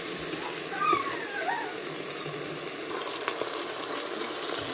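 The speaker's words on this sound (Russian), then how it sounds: "Так, мясо у нас жарится уже 10 минут." Meat fries in a pan for pilaf, a steady close sizzle with occasional stirring clinks; a voice is faintly audible in the background.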